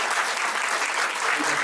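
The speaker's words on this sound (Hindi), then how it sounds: "एक बार जोरदार तालियों से स्वागत करें।" Audience applause welcoming a speaker, the vice-chairperson of LNCT Group, at a Women's Day event: steady, dense clapping that fills the room throughout, with no voices over it.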